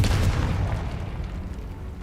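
A Confringo fire spell blasts in Hogwarts Legacy, a loud, close, booming explosion with a rumbling tail that fades over about two seconds.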